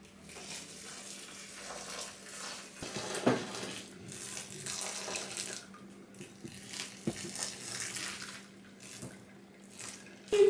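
Hot sparge water is poured gently over a grain mash for a green-hopped all-grain porter, making a soft, continuous trickle with scattered small splashes and clinks, fairly quiet throughout.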